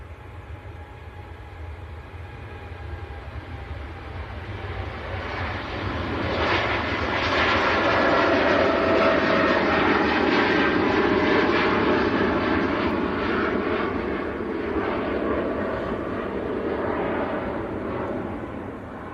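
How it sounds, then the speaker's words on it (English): A Boeing 787-10 airliner roars past, its jet engines swelling from a moderate rumble to a loud, broad peak mid-clip before slowly easing off, with no voices. "So this is the 787-10, it's the big one."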